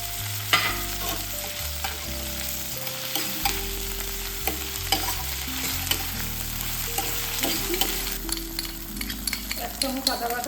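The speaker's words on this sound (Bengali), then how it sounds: "টমেটো আর কাঁচা লঙ্কাটা দিয়ে দিচ্ছি।" Tomato and green chilli are frying and being stirred in a pan, in a Bengali curry of jackfruit and prawns. A steady close sizzle runs throughout, with repeated scraping stirs of the spatula.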